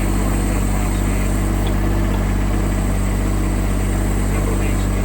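A Huayee HY16c mini excavator engine runs close by at a steady speed, a loud, even drone with a constant low hum and vibration throughout.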